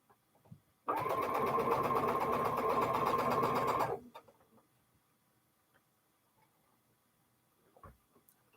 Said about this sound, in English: I can just put a couple leader enders here through before we sew our final seam on the wildebeest.